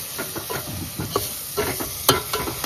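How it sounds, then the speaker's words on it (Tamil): Tomato and onion sauté in a pot for a fish curry, with a soft sizzle under repeated scraping and stirring of a spoon, close and fairly quiet. "இப்போ வந்து பார்த்தீங்கன்னா தக்காளி வெங்காயம் போட்டு வசக்கிக்கிட்டு இருக்காங்க ஒரு கஞ்சத்தில்."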